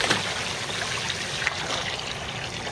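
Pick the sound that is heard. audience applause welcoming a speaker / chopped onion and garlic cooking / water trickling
water trickling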